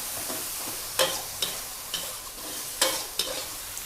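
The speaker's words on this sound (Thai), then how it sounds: "ผัดให้หมูสุกก่อนนะคะ" Minced pork stir-fried in a pan for a Thai dry chili and basil dish, a steady hiss of sizzling with sharp scraping strokes of the spatula about every half second, close and alone.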